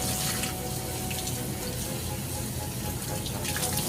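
Dyed cotton fabric is rinsed under a running tap, a loud, steady rush of water that continues unbroken throughout, with no voices.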